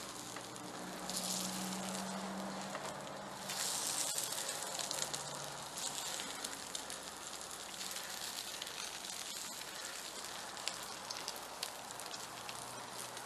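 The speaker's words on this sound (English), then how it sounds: "Look at how nice and fried these eggs are." Eggs fry on an oiled non-stick griddle at an outdoor backyard barbecue pit, giving a soft, steady crackling sizzle with small pops, fairly faint and continuous throughout.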